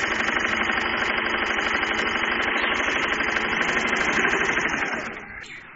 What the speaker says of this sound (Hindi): अब हम इस देखिए हम स्ट्रेट स्टिच लेकर दिखाएंगे।